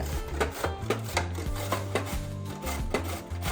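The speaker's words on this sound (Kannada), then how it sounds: "ಈಗ ಸಣ್ಣದೊಂದು ಸೋರೆಕಾಯಿನ ತೊಳೆದು ಚೆನ್ನಾಗಿ ಇಟ್ಕೊಂಡಿದ್ದೀನಿ. ಇದನ್ನ ಈಗ ನಾವು ತುರ್ಕೋತಾ ಇದ್ದೀನಿ." Bottle gourd being grated by hand, a regular rasping stroke roughly every third of a second, close and fairly loud, with no voices.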